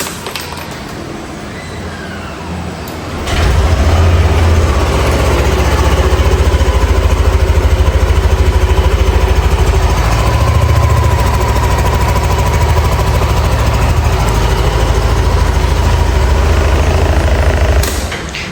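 A Yamaha NMAX V2 scooter engine starts after a few seconds of quiet, following magneto and stator cleaning. It then idles steadily and loudly up close with a low, even throb that runs to the end, with no talk over it.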